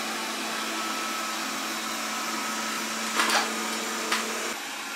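A PROSCENIC 820S robot vacuum cleaner picking up cracker crumbs and raisins from the floor, a steady close whirring hum with a couple of brief rattling crackles as debris is sucked in, no speech.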